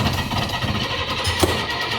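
A parked bus engine that has sat unused for about a year is cranked as it tries to start, giving a close, rough, chugging churn with an uneven knock partway through.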